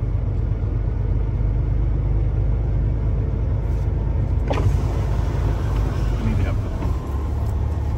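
A truck engine idled up to about 1,000 RPM during an air brake test, giving a steady low rumble that fills the clip, with a few faint clicks and hisses near the middle.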